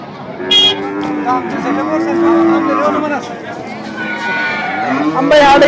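A cow moos repeatedly at a cattle market, long drawn-out calls close by, with brief crowd noise and a few voices in the background.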